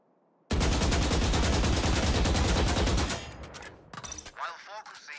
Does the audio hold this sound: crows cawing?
no